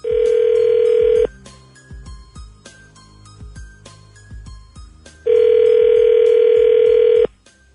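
Telephone dial tone, a steady loud tone lasting over a second, then a stretch of faint clicks and soft taps as a call is dialed, and then a second long burst of dial tone.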